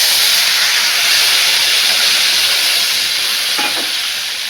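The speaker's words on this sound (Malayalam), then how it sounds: "ഇത് നമുക്ക് ഈ ചൂടുവെള്ളം ഒഴിച്ച് കൊടുക്കാം." Boiling hot water is poured into a sautéed curry mixture in a home kitchen, setting off a loud, continuous hiss and sizzle that stays steady and close, slowly easing toward the end.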